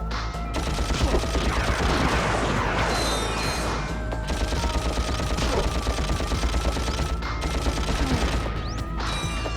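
Rapid blaster gunfire from the Ratchet & Clank video game rattles in dense, continuous bursts for the whole stretch, loud and busy, with layered game effects and no speech.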